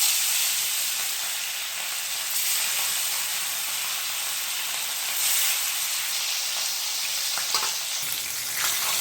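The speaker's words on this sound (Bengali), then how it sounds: "মাছগুলোকে ভেজে নেব।" Rohu fish pieces rubbed with salt and turmeric fry in hot oil, a steady loud sizzle and crackle that runs throughout with no talk.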